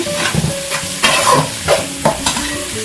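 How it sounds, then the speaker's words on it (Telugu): Mutton paya ingredients fry and get stirred in a pan, with loud sizzling under a series of distinct scraping strokes of the spoon spread across the stretch, close and without any talk. "అయితే ఆల్మోస్ట్ వేగిపోయాయి"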